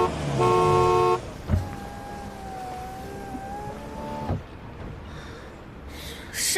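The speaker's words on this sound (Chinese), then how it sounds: "干嘛突然按喇叭？" A car horn sounds in a steady honk for about a second, followed by a quieter sustained tonal tone and a few soft thumps, with no talking.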